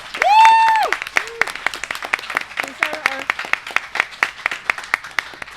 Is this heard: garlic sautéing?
no